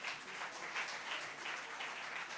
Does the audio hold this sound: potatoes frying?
no